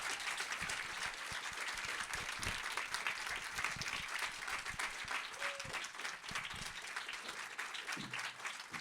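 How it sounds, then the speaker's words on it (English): Audience at a film premiere Q&A in New York applauding, continuous clapping from a crowd in a theatre, fairly faint and even throughout. "Give a big round of applause for Rose and Krew."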